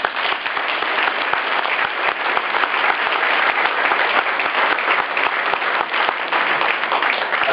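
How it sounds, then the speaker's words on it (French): An audience at a ceremony honouring a firefighter and his wife claps steadily and warmly, sustained applause that holds an even level throughout. "Voilà, on peut les applaudir."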